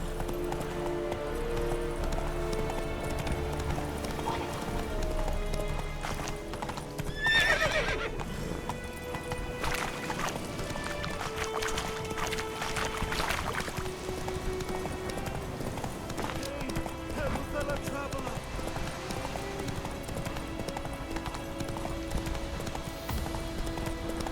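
Horse hooves clip-clop at a steady gallop in The Witcher 3, with a whinny partway through, all over a continuous bed of game music and ambience.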